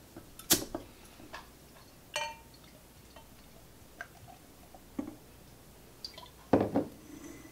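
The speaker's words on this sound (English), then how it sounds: "So let's get this cracked open into a glass and see what it's all about." Southern Tier Warlock Imperial Pumpkin Stout being opened and poured into a glass: a few sharp clinks and taps of bottle against glass, spaced out over quiet, with a brief liquid splash near the end.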